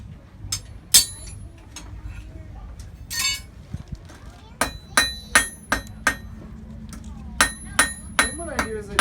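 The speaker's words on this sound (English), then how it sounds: "I'm going to take the cross peen of the hammer and put some texture in it" Sharp metallic blacksmith's hammer strikes ring out on metal, irregular at first and then a steady rhythmic series of blows from the cross peen texturing the metal, with some speech between them.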